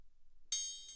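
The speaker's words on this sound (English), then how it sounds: "None of the other drums sound like this and have these like strong resonant peaks." A single bell-like drum hit from a tech house kit sounds alone after a short silence, ringing with strong high resonant peaks, then a second softer hit follows near the end.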